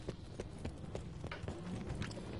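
Horse hooves clip-clop in a video game, a steady run of close hoof knocks over a dense background of game sound.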